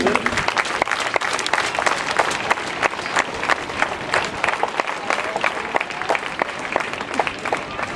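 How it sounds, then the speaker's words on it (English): Crowd at a school inter-house athletic meet applauds steadily, dense rapid clapping from many hands close by, sustained evenly for several seconds with faint cheering mixed in. "let's join together and cheer them."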